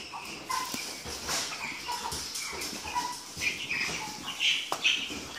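Ross 308 broiler chicks cheep in high, scattered peeps with occasional rustling and fluttering, a busy indoor flock with no talking.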